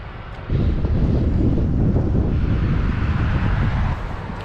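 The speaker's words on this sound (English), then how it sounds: "It's windy, overcast." Strong wind buffets a microphone outdoors on an overcast day in Winnipeg, a steady loud roar that rises suddenly after a brief quieter start and holds with no voices.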